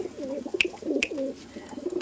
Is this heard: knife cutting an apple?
no